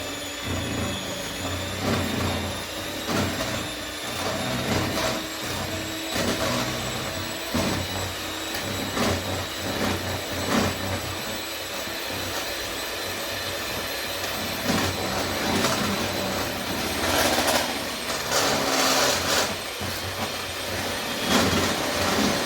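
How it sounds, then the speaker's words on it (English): An electric hand mixer with beaters whips cake batter for a honey spiced cake, a loud, continuous high-pitched motor whir with rhythmic scraping and clattering against the bowl, running steadily throughout. "take our beaters, our mixer, and we're going to mix this up"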